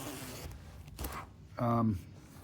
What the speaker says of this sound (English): Zips up really nice and easy.